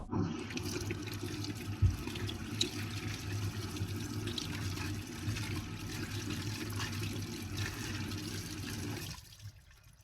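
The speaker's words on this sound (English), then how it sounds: "Then rinse with water." Water from a running tap pours steadily over a mixing cup lid for about nine seconds as it is rinsed, a continuous splashing hiss with a few small knocks, close by, ending abruptly when the water stops.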